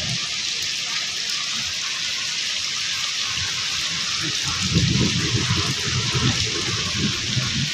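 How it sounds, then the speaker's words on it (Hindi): Heavy rain pours steadily over a flooded home in Punjab, Pakistan, with water gushing and splashing nearby, growing louder and more turbulent toward the end; a continuous broadband wash with no talk. "बहुत तेज़ बारिश हो रही है।"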